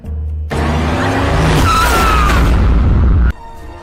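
A car skidding in a tense scene from the film Jazbaa: a loud, sustained tyre screech with a wavering squeal and a heavy rumble, ending abruptly.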